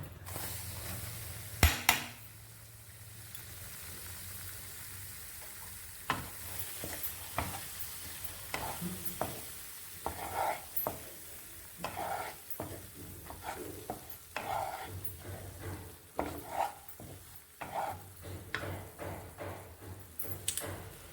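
Maida flour roasted in ghee for coconut burfi, with a soft continuous sizzle and repeated scraping strokes of a spoon against the pan, fairly quiet, after an early clatter.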